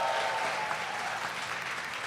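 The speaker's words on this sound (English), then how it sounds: "Give them a round of applause." A brief round of audience applause for the judges at a jigsaw puzzle competition, steady diffuse clapping from a crowd heard at moderate distance, with no speech over it.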